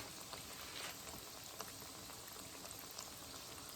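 Mixed vegetable pakoras sizzle in hot frying oil, a faint, steady crackling hiss with scattered small pops, heard alone without talk.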